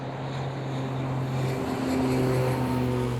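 A Metroliner twin turboprop airliner cruising at altitude, its propellers giving a steady, loud drone with a low tonal hum that holds evenly throughout.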